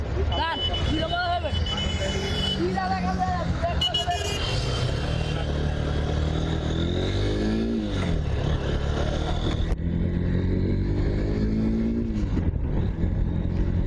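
Honda NX 200 motorcycle being ridden on a road, its engine running steadily throughout with rising and falling revs, loud and close, while someone talks over it.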